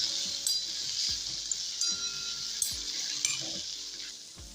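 Onion and capsicum sizzle steadily in a pan over a low gas flame, a soft continuous frying hiss with occasional stirring clinks and taps, heard close with no talking, for a Gujarati potato curry.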